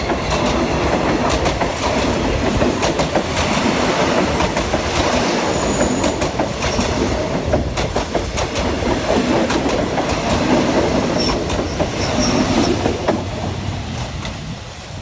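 An Alstom diesel locomotive hauling an ordinary passenger train rumbles past steadily on a curve near Ban Pong station, Thailand, with rhythmic clickety-clack of wheels and faint squeals from the rails, loud and close throughout.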